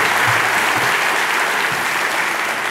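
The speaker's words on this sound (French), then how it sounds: "Applaudissements, s'il vous plaît." Audience applause at an economics awards ceremony, a dense, even wash of clapping from a sizeable crowd, steady and fairly loud throughout.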